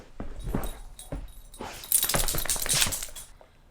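An indoor dog whimpers and whines for attention in a few short, rising yips and squeaky whines, close by, with rustling movement in between and no speech.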